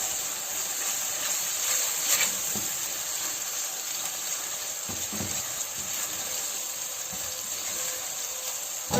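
Ginger garlic paste hitting lightly browned fried onions in a pan, a loud, close, steady hissing sizzle with occasional stirring sounds underneath.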